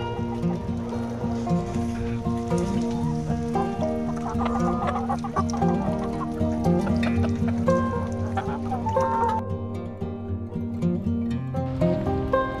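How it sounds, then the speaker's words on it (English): A flock of chickens clucks continuously at close range on a snowy winter morning, with overlapping calls and brief squawks that carry throughout and no voices. "Bunch of happy chickens on this winter morning."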